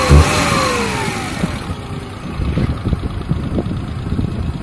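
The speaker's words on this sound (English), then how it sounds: "The engine sound completely varies from the stock." A stage 2 ECU-remapped Maruti 800 engine revs up and falls back, then settles into a lumpy, throbbing idle with uneven pulses, heard close and loud with no talking.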